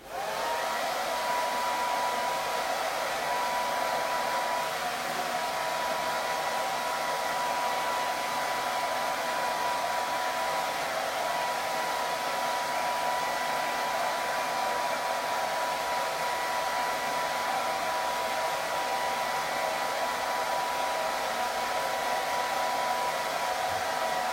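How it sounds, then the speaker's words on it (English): A hair dryer blows steadily and continuously for the whole stretch, a loud, even whooshing drone with no pauses and no talking. "I'm going to grab my hair dryer."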